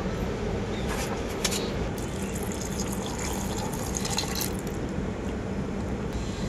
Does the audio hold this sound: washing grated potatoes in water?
yes